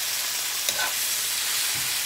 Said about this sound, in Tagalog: ilalagay ko na itong aking mga mixed vegetable